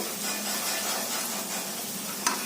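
Onion sautéing in a pan with turmeric and asafoetida for red amaranth bhaji, a steady soft sizzle with light stirring scrapes and one brief clink near the end.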